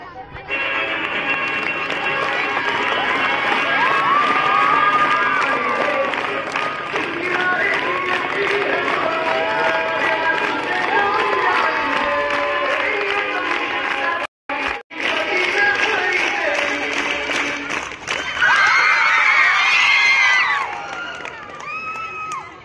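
A large crowd of women at a contest shouts and cheers loudly and continuously, with overlapping voices and bursts of excitement that briefly cut out and then swell again near the end.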